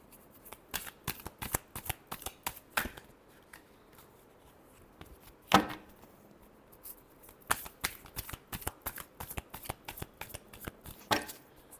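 Tarot cards being shuffled by hand, a series of quick crisp riffles and flicks in irregular bursts, close and fairly quiet, with no voice.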